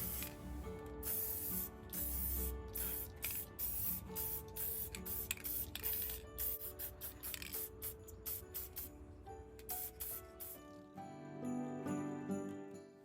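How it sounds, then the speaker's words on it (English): Rust-Oleum copper spray paint hissing onto a Dollar Tree glass jar in repeated short bursts, close and crisp, with brief pauses and faint clinks between sprays. "a little bit of this Rustoleum copper spray paint and just gave it an all over coat"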